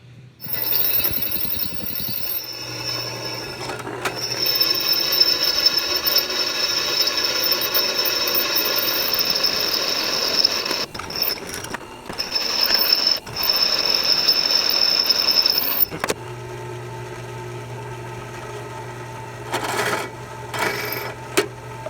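A drill bit bores holes in steel while a loader is fitted to a rusty old farm tractor, heard as a long, loud, grinding whine that runs in stretches with brief stops and restarts.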